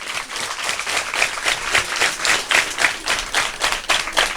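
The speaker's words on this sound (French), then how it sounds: "la présidente Madame Cissé, que vous allez applaudir très fort." Audience at an elementary school in Ndiéguène, Thiès, Senegal applauding a visiting delegation, rhythmic clapping in regular pulses, fairly close and loud, with no speech over it.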